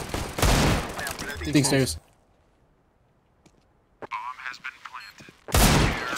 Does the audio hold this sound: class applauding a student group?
no